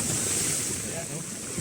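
Strong waves surge against the seawall at Manila Bay, a loud, close wash of churning water with heavy wind buffeting the microphone, filling the whole brief moment without a break.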